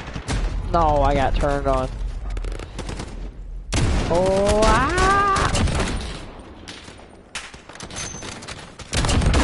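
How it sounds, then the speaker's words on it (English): Machine gun fire in Modern Warfare multiplayer, steady rapid bursts running under excited voice chat, loud and close, easing off toward the end. "Oh, he's using a machine gun."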